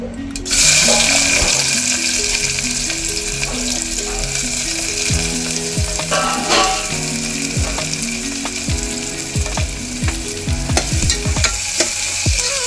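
Onions frying in a few spoons of oil for a homemade mutton curry, giving a loud, steady sizzle with repeated spoon scrapes and clanks against the pan, and no talking.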